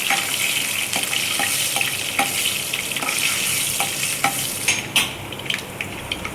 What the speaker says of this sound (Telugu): ఇప్పుడు ఒట్టిమిరపకాయలు కూడా వేసేస్తున్నాను. వేసేసి బాగా కలుపుకోవాలి.